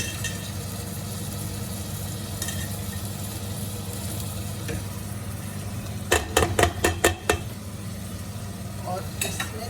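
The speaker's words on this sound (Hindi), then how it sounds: "मैं दाल डालूंगी चने की" Soaked chana dal being stirred in masala in a pan, a steady low sizzle running throughout with a cluster of sharp scraping stirring strokes near the end, close and moderately loud, no talk.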